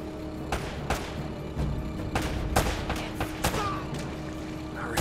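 Gunfire in the PS3 action game Uncharted: Drake's Fortune: about a dozen sharp shots crack at irregular intervals over a steady background din, moderately loud and without talk.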